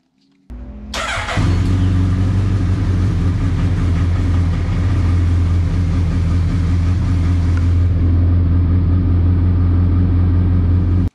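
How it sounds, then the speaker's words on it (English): A Suzuki Hayabusa motorcycle engine starts with a burst and settles into a loud, steady low idle right up close, rumbling continuously to the end. "I'm gonna start up the bike and calibrate these so they're equal."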